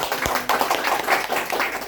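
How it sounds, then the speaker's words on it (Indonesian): A group of people clapping their hands at a driver competency training session indoors, steady overlapping claps of moderate loudness lasting a couple of seconds. "Tepuk tangan Pak untuk kita semua."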